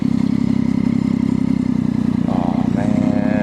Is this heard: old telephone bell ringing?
no